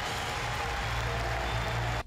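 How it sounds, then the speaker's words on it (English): Stadium crowd at a Wisconsin Badgers pregame ceremony giving a standing ovation to former assistant coach Howard Moore, a steady wash of clapping and cheering throughout, dense and sustained with no pauses. "The crowd giving Howard Moore a standing ovation"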